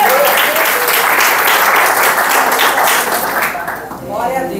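A church congregation at a family worship service breaks into applause, a full, sustained wave of many hands clapping that stays loud before thinning out near the end, with a voice faintly underneath.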